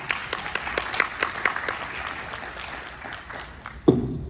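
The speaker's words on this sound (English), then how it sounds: "Y'all give them a round of applause." Audience applause at a business talk event, a scattered run of claps that thins out and fades, ending with a brief thump.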